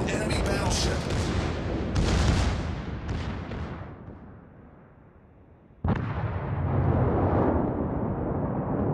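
Booming explosions and gunfire from a naval battle video game crash out in loud bursts, fading into a brief lull before another heavy blast erupts, with a voice talking over the action.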